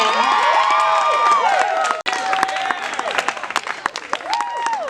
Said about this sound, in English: give a huge round of applause for our next comedian, Will McLaughlin